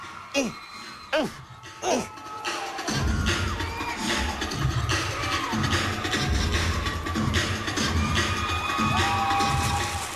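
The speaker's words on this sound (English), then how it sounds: "why did the audience suddenly start screaming?" A large audience at a 1990 cheerleading competition bursts into loud, sustained screaming and cheering after a few sharp claps, the crowd roar filling the rest of the clip.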